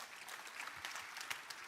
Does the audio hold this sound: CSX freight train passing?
no